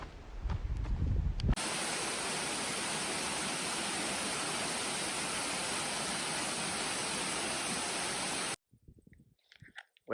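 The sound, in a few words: waterfall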